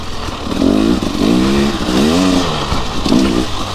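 A motorcycle rides a single-track trail in second gear, its engine loud and close, revving up and down in rising and falling surges with brief dips between pulls.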